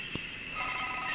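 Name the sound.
telephone ringing in a video game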